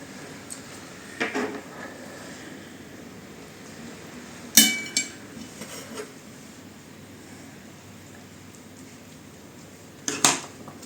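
A knife cuts through a cooked roulade on a plate, with a few separate clinks and scrapes of metal on china spread out over a quiet room.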